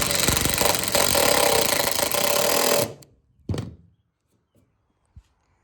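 Power driver screwing down a boat pedestal on the front deck of a Cherokee jet jon boat, a loud whirring run of about three seconds that cuts off, then one short burst and a light knock.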